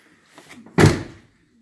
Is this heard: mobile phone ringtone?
no